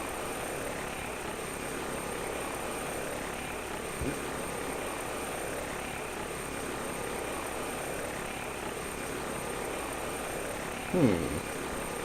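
Helicopter in a flight simulator game, a steady droning rotor and engine hum holding at an even level throughout, with a brief thump near the middle and a short sweeping noise near the end.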